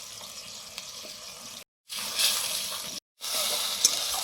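Ground spice masala with ginger paste and a splash of water fries in a pan for chicken biryani, giving a bright, steady sizzle that cuts out twice in short gaps before returning louder, with occasional stirring scrapes.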